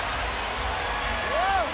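Boxing arena crowd at a Manny Pacquiao fight, cheering and roaring steadily from a distance as a dense, continuous wash of noise, with a brief whistle-like rising tone near the end.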